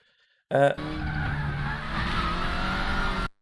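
A brief loud burst, then a sustained high-pitched WTCR touring car engine whine at Suzuka in the Raceroom video game, with stuttering tire and traction-control noise, steady and close, ending abruptly.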